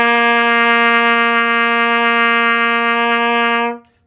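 A trumpet sustains a single open low C, played without valves, as a clear, loud, steady tone. It holds for about three and a half seconds and then stops cleanly, with no talking.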